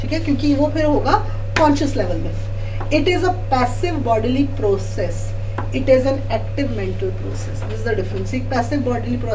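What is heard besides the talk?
No distinct noise like a dog, phone or traffic.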